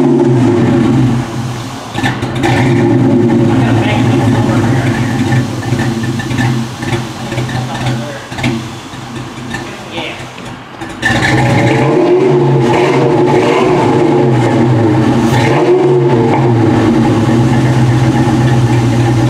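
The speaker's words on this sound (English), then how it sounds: "See if you can get it to idle so you can hear it low." A Mustang GT's V8 engine, running after its first start in a project build, rumbles loud and close at a steady idle, dips briefly, then surges back in a sustained rev with no voices.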